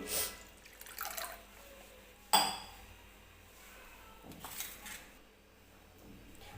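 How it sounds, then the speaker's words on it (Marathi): Water is poured into washed toor dal in a cooking pot, giving short splashing gushes with a sharp metallic clink of the pot between pours, quiet and close in a home kitchen. "तर या डाळीमध्ये मी पाणी ओतून घेते."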